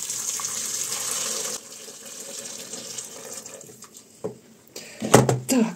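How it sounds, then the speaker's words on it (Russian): Hot water runs from a tap into a multicooker holding chicken legs, a steady hissing stream that cuts off, followed by a few clunks and splashy handling noises near the end. "Заливаем горячей водой, где-то 200 литров воды потребуется."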